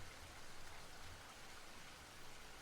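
Steady rain falls during a storm, a dense, even hiss of drops with no voices, holding at a constant level throughout.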